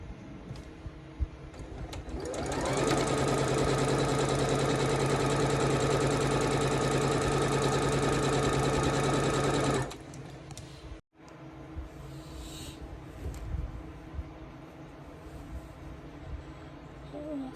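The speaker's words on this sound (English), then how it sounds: "it's going to be sewn this corner to corner" A sewing machine stitches a quilt block from corner to corner, starting after a couple of seconds and running as a steady, close, rattling hum for about seven seconds before stopping, followed by quiet handling noises.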